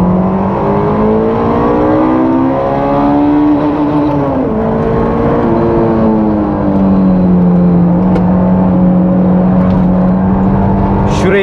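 A Honda S2000 accelerates hard on a race track. The engine's loud, close drone climbs in pitch, dips briefly between pulls and climbs again.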